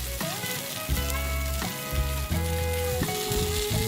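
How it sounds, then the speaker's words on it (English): Canned sardines dry-frying in a pan over a medium flame give off a steady, close sizzle, broken by a few soft stirring scrapes. "Let's keep frying this until it becomes really dry."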